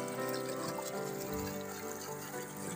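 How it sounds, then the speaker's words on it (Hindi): River water flows steadily and close by at a village riverside, a continuous rushing and trickling wash with no talk over it. "सुंदर पानी आ रहा है, नदी में पानी बह रहा है पूरा इधर से"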